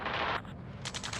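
Gunfire in the Ace Combat 7 flight combat game, a dense burst of shots at the start, then a brief lull before a rapid string of four or five sharp reports near the end.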